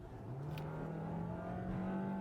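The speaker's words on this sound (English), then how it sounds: "Can you hear the engine? That is about as loud as you will get the engine." A Hyundai Santa Fe engine in sport mode accelerates hard, a steady droning rise in engine note heard from inside the cabin, continuous and fairly loud with no talk over it.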